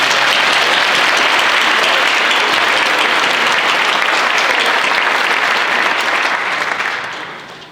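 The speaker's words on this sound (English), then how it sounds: "Let's give them another round of applause" Sustained enthusiastic applause from an audience at a National Technical Honor Society induction ceremony, a dense steady wash of clapping that fades out at the end.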